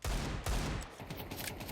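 Gunfire during a Counter-Strike match: a loud, dense burst of rapid shots up front, followed by quieter scattered shots and game noise over under two seconds.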